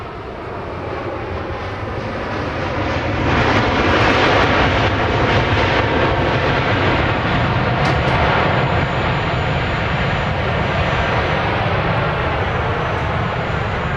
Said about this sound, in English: This is 787-800 coming in from Denver, flight 1082.